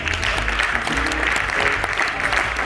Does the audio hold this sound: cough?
no